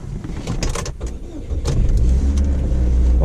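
A 2004 Saturn Ion Redline turns over and starts up close by, its engine catching and settling into a steady, loud idle within a few seconds.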